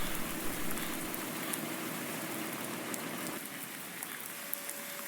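Steady rain falls in Farming Simulator 19 with the Seasons and Precision Farming mods on the Lone Oak map, a dense continuous patter of drops on surfaces that stays fairly even and fills the whole clip without talk.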